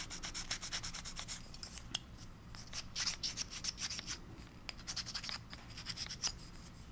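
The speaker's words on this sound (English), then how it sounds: "It's a double-sided sandpaper block" A plastic model of Herman Munster being sanded with a double-sided sandpaper block: quiet, close, rhythmic scratchy rubbing strokes in short bursts, repeated steadily with no talk.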